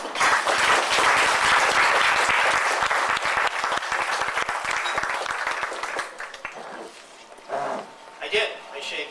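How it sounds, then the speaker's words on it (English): Loud audience applause at an activist forum, with dense clapping, fills most of the clip, fading toward the end as a voice begins speaking. "let's give Barry a round of applause"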